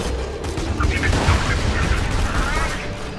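Thrown gun bursting like a grenade in the Borderlands 2 video game, a cluster of booming blasts and crackling gunfire mixed with voices talking.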